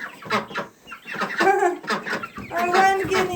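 Chickens in a backyard homestead coop cluck and squawk close by in a busy, overlapping stream, the flock restless in a new space.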